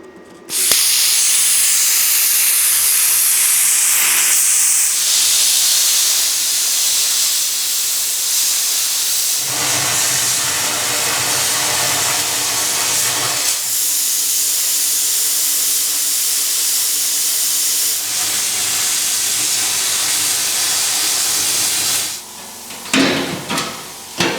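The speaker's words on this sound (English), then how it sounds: "I'm wondering if I can do that with the plasma cutter." A plasma cutter with a worn, spent nozzle slices through thin, dirty, rusty steel on a Ford 555 backhoe bucket, giving a loud, steady hissing roar that runs nearly unbroken for about twenty seconds before stopping with a few short bursts.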